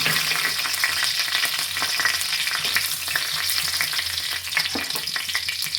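Cumin seeds and a bay leaf crackle in hot oil in a kadai, giving a loud, steady, close sizzle with small pops and faint stirring throughout.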